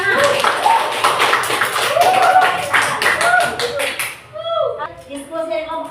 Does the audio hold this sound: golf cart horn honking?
no